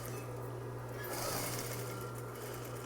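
A sewing machine stitches a messenger bag with a steady low mechanical hum that stays even throughout, the whir brightening briefly partway through.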